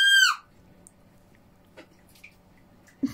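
A young child, a four-year-old girl, lets out one loud, high, wailing scream lasting under half a second, then the room falls quiet apart from a few faint knocks and rustles.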